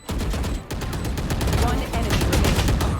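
Rapid bursts of Valorant gunfire crackle almost continuously, loud and close, with an excited voice talking over the shooting.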